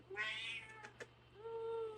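A former street cat with a broken tail meows twice, a long rising call followed by a shorter one, close and clear in a quiet indoor room.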